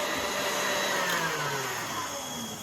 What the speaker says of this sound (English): And I'm gonna blend until fluffy. I'm gonna finish blending.